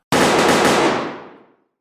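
A single loud, close volley of firing-squad gunfire, one sharp crack that spreads into a long crackling roar and fades out over about a second and a half.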